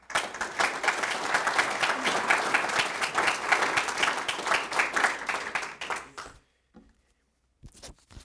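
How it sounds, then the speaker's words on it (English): Audience applause at a Beyond the Yellow Ribbon proclamation ceremony: a sustained round of clapping from a crowd for about six seconds, then tapering off into near silence, with a few scattered claps returning at the end. "let's please give Aaron another round of applause for all the work he's done"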